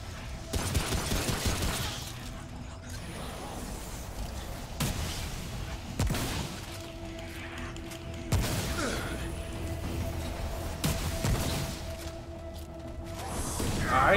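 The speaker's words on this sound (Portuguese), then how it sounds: "Ah, ele dá tiro aqui também." Enemy gunfire in the video game Remnant: From the Ashes, sharp bursts and shots spread across the clip over a droning game soundtrack, moderately loud.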